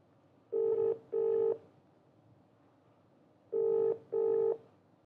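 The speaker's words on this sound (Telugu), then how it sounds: "కాల్ రింగ్ అవుతుంది" Outgoing call ringback tone plays through a phone in two pairs of clear, evenly pulsed double rings, separated by a pause of quiet line noise.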